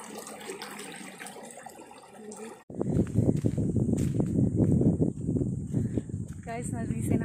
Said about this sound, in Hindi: कपड़े धो रहे हैं।